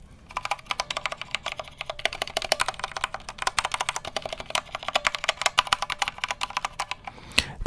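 Fast, close typing on a 60% Corsair mechanical gaming keyboard, with crisp clacking keystrokes in a dense, uneven rhythm and no talking.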